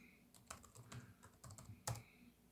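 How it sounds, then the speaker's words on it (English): Someone typing a password on a keyboard, a short irregular run of close, quiet key taps with one sharper keystroke near the end. "Type in the password."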